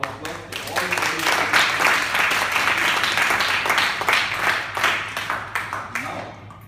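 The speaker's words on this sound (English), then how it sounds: "Overall, give a round of applause to all the people." An audience at a Toastmasters club meeting claps in a round of applause, a dense continuous patter of many hands that builds and then thins toward the end, with voices mixed in.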